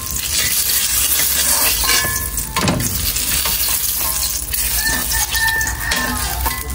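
Eggplant slices fry in oil in a pan at an outdoor family picnic, giving a loud, steady, continuous sizzle with crackling bursts throughout, and no talking.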